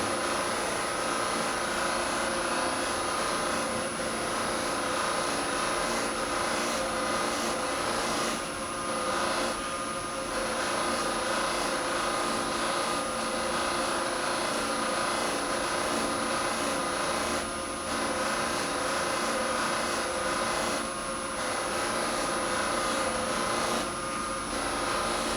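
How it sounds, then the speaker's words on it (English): A polishing wheel spinning at about 1700 RPM against epoxy resin gives a loud, steady, continuous whir with a high whine, running alone and unbroken throughout. "Running that wheel at about 1700 RPM, and this is fairly painless."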